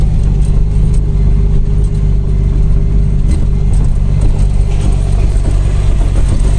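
A truck rolls slowly along a dirt farm road toward an orange plantation, its engine droning loud and steady at close range, with a little rattling of the cab and load.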